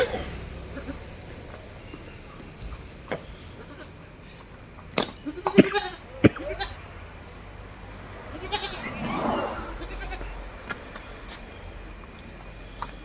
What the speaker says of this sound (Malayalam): ചെവി പിടിച്ചു കൊടുത്തുകൊണ്ട് കുടിപ്പിച്ച ഒരു മുട്ടൻകുട്ടി, ഹൈദരാബാദി മുട്ടൻകുട്ടി.